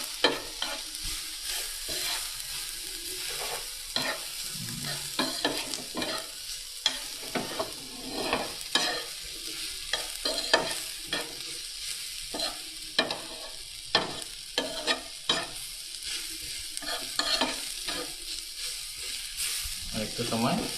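Spices frying and being stirred in a pan during a live recipe show, a steady loud sizzle broken by frequent scraping stir strokes at an irregular rhythm, close up and continuous with no talk.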